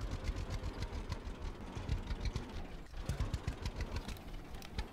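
Tractor engine idling in the farming game Farmer's Dynasty, a steady low mechanical chug with a rapid pulsing rhythm, moderately quiet and continuous without talk.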